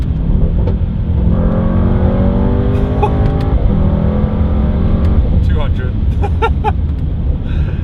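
Mercedes-AMG GT 63 S 4-door engine heard from inside the well-insulated cabin while driving on the Autobahn, a steady loud drone with rising pitch sweeps as it accelerates and shifts, under continuous talk.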